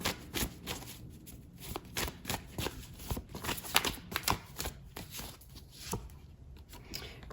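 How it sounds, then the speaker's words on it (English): A deck of oracle cards is shuffled close by, giving a quiet, irregular stream of papery riffles and soft slaps that repeat steadily with no talk over them. "I do want to pull some oracle cards here, just to get some more information."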